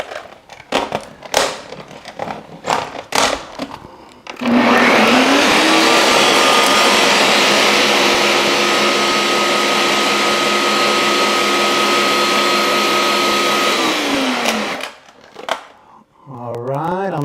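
A blender whirs loudly and steadily for about ten seconds, blending a plant-based tuna mixture, with its motor pitch rising as it spins up and falling as it winds down; brief talk comes before and after.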